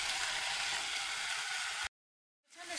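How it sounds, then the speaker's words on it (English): Meat browning in a pan for bolognese gives a steady bright sizzle and crackle that cuts off abruptly into silence, then returns faintly, with no talk. "it's just giving up a really good sizzle"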